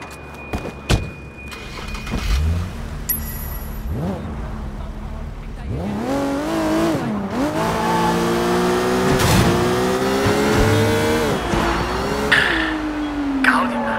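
A car is driven in the video game Sleeping Dogs, its engine revving and rising through the gears with tire squeals and skids, loud and close, with game voices heard in places.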